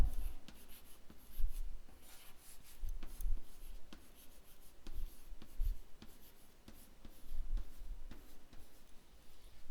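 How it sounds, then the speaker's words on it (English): A pen scratches across paper while notes are written down, close and fairly quiet, with uneven strokes and small taps in irregular bursts and no talking. "Let me write it down."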